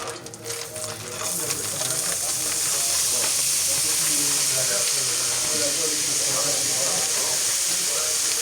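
Onions tossed into a hot pan with red curry for rougail saucisses, a strong steady sizzle and hiss that swells after a brief clatter at the start, with light stirring and faint background talk.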